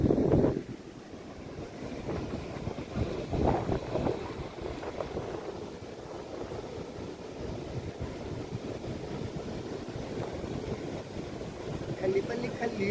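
A boat's engine drones steadily out on the open sea off Devgad Phanse, with a low rumble that continues throughout and wind buffeting the microphone.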